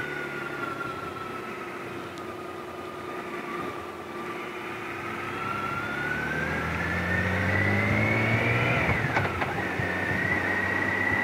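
A BMW K1600GT six-cylinder motorcycle revs up in a smooth, rising engine note. It climbs steadily, gets louder and then drops sharply as the quickshifter snaps through a gear change, heard close with no talking.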